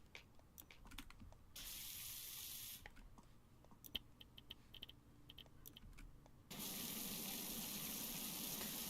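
Pressure washer nozzle blasting water in the video game Powerwash Simulator, a steady loud hiss that cuts in and out in bursts, with quiet clicks between sprays and a stronger, fuller spray near the end.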